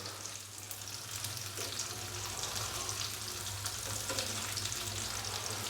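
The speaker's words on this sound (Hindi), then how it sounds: "दूसरी साइड को भी 2 से 3 मिनट के लिए हम फ्राई कर लेंगे।" Pieces of fish fry in an oiled pan for a spicy fish curry, giving an even, close sizzle and crackle with a low background hum and no talking.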